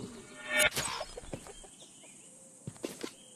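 A few sharp chicken clucks and squawks ring out in the video game A Township Tale, with a loud burst near the start and scattered calls after, without talk.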